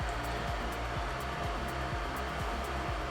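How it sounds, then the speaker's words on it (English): Induction cooktop on a table running with a steady fan-like whir and a low electronic hum, broken by faint repeating pulsing clicks, constant and fairly close. "now this induction cooktop is on the table and it will make noises"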